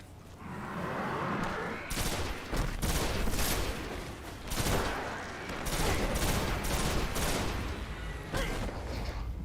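Sustained volleys of gunfire from the video game Destiny, dense bursts of rapid shots with loud repeated blasts throughout, close and continuous with brief lulls between barrages.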